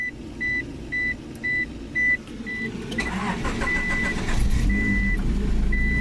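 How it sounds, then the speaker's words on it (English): A Honda Accord (JDM) seatbelt warning chime rings in five evenly spaced, clear electronic dings inside the car, followed by the engine cranking and settling into a low idle rumble, with an occasional faint ding continuing. "this stupid thing's gonna ding and flash because seatbelts aren't hooked up"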